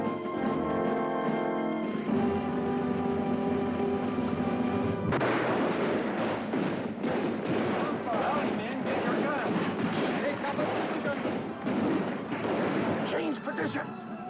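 Black-powder cannon and musket blasts from a vintage Disney Revolutionary War film, fired with powder charges only. Repeated booming shots roll into a continuous rumble of gunfire that carries through most of the scene.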